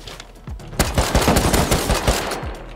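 Rapid automatic AK rifle fire in the survival game Rust, a dense burst of close, loud shots that starts after a few scattered cracks and keeps rattling to the end.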